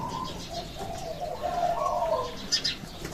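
A trained songbird kept for calling contests, freshly delivered and housed in its cage, sings in fairly close, bright chirps and warbling phrases over a faint steady background hum, with no voices.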